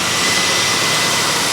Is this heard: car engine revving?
yes